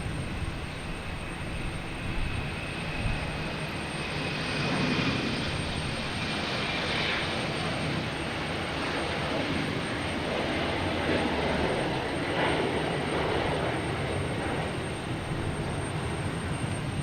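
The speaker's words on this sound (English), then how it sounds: "we have JetBlue E190 heading to DC" JetBlue Embraer E190 jet departing Boston Logan Airport, a steady broad engine roar holding loud and continuous for the whole span, swelling slightly midway with no voices over it.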